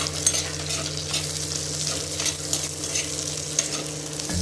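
Small onions sautéing in a pan with green chillies for a spicy fish curry, a steady close sizzle with soft stirring scrapes throughout, no voices.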